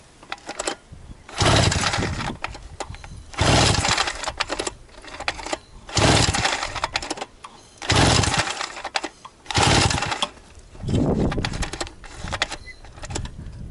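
A KUMIR walk-behind tractor with a cold engine, working a field: loud, close engine noise rises and falls in repeated surges about every two seconds.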